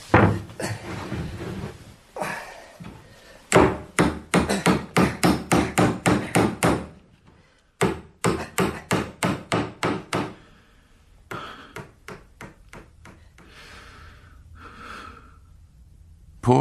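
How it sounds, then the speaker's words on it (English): Nails are hammered into a wooden coffin lid in rapid, loud rhythmic bursts of sharp knocks, broken by pauses and heavy breathing, then fading to softer, sparser taps. "Nail the lid on this coffin"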